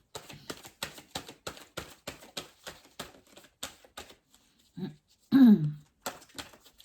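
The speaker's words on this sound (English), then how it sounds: "Sorry, I keep clearing my throat." Rapid mechanical clicking taps along, then a person clears their throat twice, the second rasp louder and rougher, close by.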